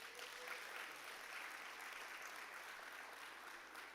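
A crowd at an agri-business investment forum claps in a steady, even wash of applause, heard faint and a little distant, with no talking.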